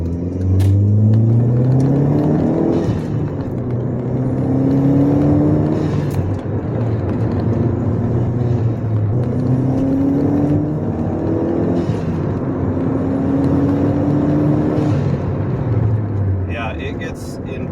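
A 1.8T car engine fitted with a downpipe pulls hard through several gears, each rising drone cutting off at a shift before climbing again, loud and close from inside the car, with brief talk near the end.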